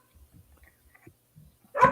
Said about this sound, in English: What is she barking at? She's barking at me.